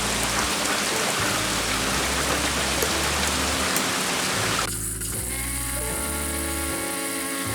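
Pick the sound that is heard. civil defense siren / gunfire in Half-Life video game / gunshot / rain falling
rain falling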